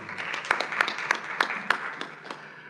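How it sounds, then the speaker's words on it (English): Moderate applause from a conference audience at a roundtable on local government and disaster risk, with several sharper individual claps standing out over a few seconds. "Ram from Trinidad and Tobago, please let's give him a round of applause."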